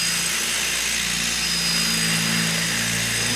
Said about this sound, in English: So now that we've drilled the hole